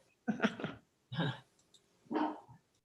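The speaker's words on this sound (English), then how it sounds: "Maeve, stop barking." A dog barks three times in short, loud bursts close to the microphone during an online video call, with quiet pauses between the barks.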